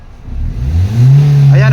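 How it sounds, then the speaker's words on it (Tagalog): A 2016 Nissan Almera with a manual gearbox and a low-power fault revs up, the engine rising from a low idle to a loud, sustained high-RPM roar close to the microphone. "So i-try natin ngayong i-rev ang accelerator at tingnan natin dito sa RPM."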